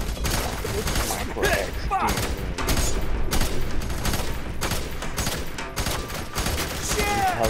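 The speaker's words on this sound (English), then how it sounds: "Oh, you're shooting at me." Gunfire in the shooter game F.E.A.R., dense bursts of rapid shots and fusillades crackling steadily throughout, with mechanical clanks and players talking over the noise.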